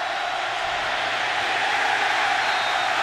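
Stadium crowd at a Florida State versus Oklahoma college football game, a dense, steady roar of thousands of distant voices with no distinct peaks.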